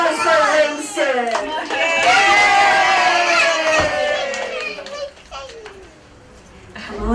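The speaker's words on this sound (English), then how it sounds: "Everybody give a round of applause for Winston." A crowd of children at a bookstore book launch cheers and shouts for Winston, loud excited voices rising together and then thinning out as the noise fades toward the end.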